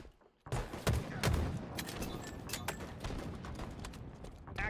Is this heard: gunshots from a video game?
yes